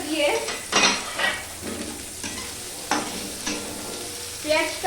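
Chopped onion frying in a pan for a snake gourd mash, stirred with a utensil: steady close sizzle under repeated scraping strokes, a few louder clacks against the pan.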